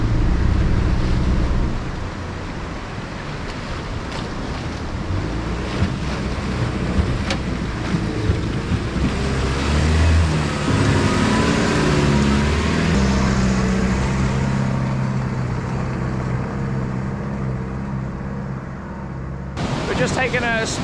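A 4WD engine labors at low revs through a creek crossing while water churns and splashes around it, a continuous rumbling drive through water with a sharp burst near the end.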